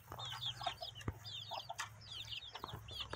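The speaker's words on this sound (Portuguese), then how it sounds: "Aqui os pintinhos." Many small chicks chirp and peep busily with a few hen clucks mixed in, a close, steady chatter of farmyard poultry with occasional knocks and shuffles.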